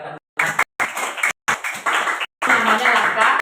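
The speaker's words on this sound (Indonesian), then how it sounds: "boleh dulu kasih tepuk tangan untuk mereka." A crowd claps in several bursts broken by abrupt gaps, with the applause fairly loud and close.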